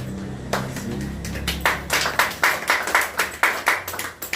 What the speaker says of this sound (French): On applaudit souvent